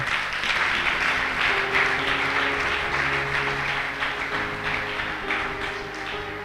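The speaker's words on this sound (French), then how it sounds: "Est-ce qu'on peut acclamer le Seigneur?" A church congregation claps loudly and steadily in sustained applause, with music tones lingering underneath and the clapping easing slightly toward the end.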